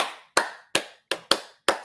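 Six sharp, close hand claps ring out in a loose, slightly uneven rhythm, each with a short decay, cheering for someone in a quiet room with no talking.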